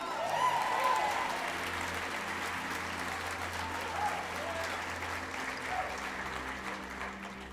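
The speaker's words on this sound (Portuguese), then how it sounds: "Aplauda Ele." Steady applause from a large crowd, sustained clapping that fills the space for several seconds before tapering slightly at the end.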